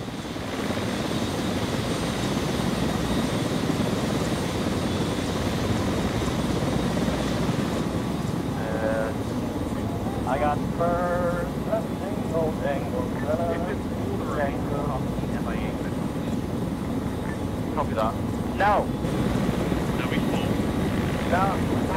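Mi-8 transport helicopter in Arma 3, with a constant loud rotor and engine drone running the whole time while several people talk over it in the second half.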